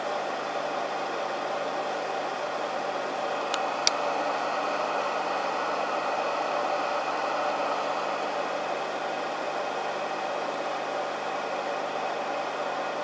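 A homemade wound electric motor runs with a steady, even hiss-like whir that holds constant throughout, with a faint tick partway through.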